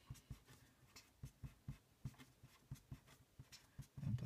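A pen writing out math terms of a series-sum derivation on paper: quiet, close scratchy strokes tapping in a steady, fairly even rhythm, alone with no talk.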